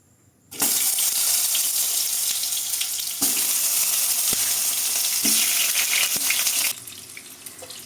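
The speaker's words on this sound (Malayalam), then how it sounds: "അപ്പം നമ്മൾ തക്കാളിയൊക്കെ ഇതിലോട്ട് ഇട്ടിട്ടുണ്ട്" Tomato halves hit hot oil in a pan for tomato chutney, setting off a sudden loud, continuous sizzle that holds steady for several seconds before easing slightly at the end.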